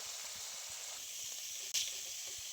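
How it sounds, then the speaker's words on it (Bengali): Sea crabs frying in hot oil in a pan, a steady close hiss and sizzle with faint crackles and one brief sharp clink. "কাঁকড়াগুলো খুব ভালো করে নাড়াচাড়া করে ভেজে নিয়েছি"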